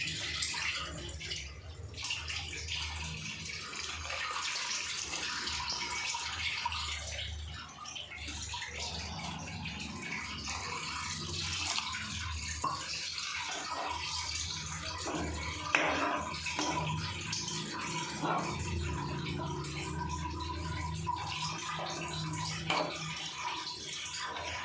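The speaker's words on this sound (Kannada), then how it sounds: "ನಾನಿಲ್ಲಿ ಒಂದು 3 ಗ್ಲಾಸಸ್ ಆಫ್ ವಾಟರ್ ಆ್ಯಡ್ ಮಾಡ್ಕೊತಾ ಇದ್ದೀನಿ" Water pours into a pot of smashed upma mixture in a home kitchen, a soft continuous splashing and trickle that stays low and steady throughout, with faint clinks now and then.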